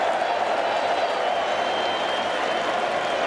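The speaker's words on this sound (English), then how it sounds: "smashed away by Anderson to huge cheers from this Welsh crowd" A Welsh cricket crowd at a 2009 Ashes match breaks into steady, dense applause and cheering, a broad far-off roar that holds evenly throughout, with a commentator's voice speaking over it.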